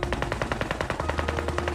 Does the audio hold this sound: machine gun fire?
yes